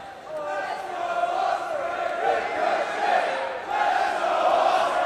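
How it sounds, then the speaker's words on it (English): A large indoor wrestling arena crowd in Newcastle roars and chants in waves at the Pro Wrestling World Cup finals, loud and sustained, swelling and dipping throughout. "Listen to this crowd in Newcastle, fired up for the Pro Wrestling World Cup finals."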